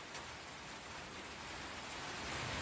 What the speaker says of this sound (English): Make the rain stop.